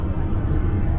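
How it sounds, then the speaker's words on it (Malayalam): Airplane engines at full throttle during takeoff on a flight from Delhi to Nepal, heard from inside the cabin as a steady, loud, dense roar filling the whole second. "ഫുൾ ത്രോട്ടിൽ കൊടുത്തുവിട്ട ആള് പൈലറ്റ്."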